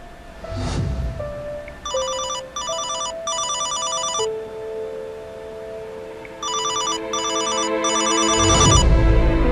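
Repeated bursts of a loud electronic ringtone come from a cellphone left in a room, pulsing in short trilled groups, close and clear over soft background sounds.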